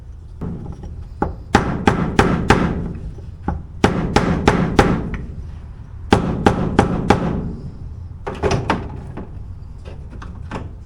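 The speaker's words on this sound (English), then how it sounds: "I don't think the hammer's going to help us." A hammer strikes a seized, frozen part on a Honda SL70 motorcycle in sharp metallic blows, delivered in quick clusters of three to five hits separated by short pauses, loud and close.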